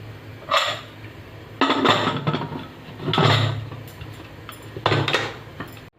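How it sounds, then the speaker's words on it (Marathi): Several metallic clanks and scrapes ring out as a lid is fitted and settled onto a pressure cooker of mutton, in short bursts separated by brief pauses. "चला तर मग आता याला मी झाकण लावते"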